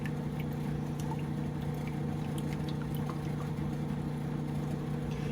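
Buttermilk pours steadily off freshly made homemade butter in a continuous, even liquid rush over a low background hum, with no talking.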